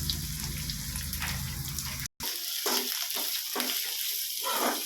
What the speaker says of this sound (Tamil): வெங்காயம் போடுறேன்பா எண்ணெய் ஊற்றிட்டோம் வெங்காயம் போடுறேன் பூண்டு பூண்டு போடுறேன்